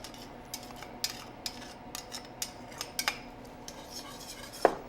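A utensil scrapes and clinks against a pot while tomato paste is stirred into a simmering dish, several light scattered taps over a soft background hum and no talk.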